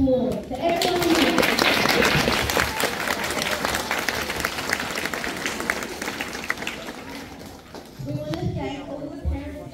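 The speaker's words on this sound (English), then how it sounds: "Can everyone just give a round of applause to everyone here?" A school Book Week crowd in Australia claps in a loud, sustained round of applause that slowly thins out, with voices mixed in.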